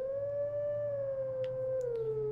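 Wolf Link howls the Song of Healing at a Howl Stone in Twilight Princess, a single sustained, smooth howl that holds steady and slowly bends in pitch over a low droning backdrop, with faint chime-like accents.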